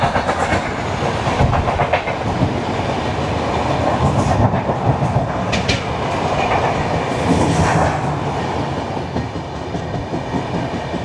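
Ernakulam–Howrah Antyodaya Express, made up entirely of general coaches, passes through a station: a sustained close roar of wheels with rhythmic clickety-clack over the rails and brief metallic squeals, no talking.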